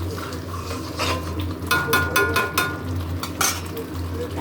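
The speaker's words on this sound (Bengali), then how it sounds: "এই যে মশলা এখন অনেকক্ষণ কষানো হবে।" Masala spices being stirred and fried in oil in a pan, a steady close sizzle with scraping strokes of the spoon against the metal, several louder scrapes at irregular intervals.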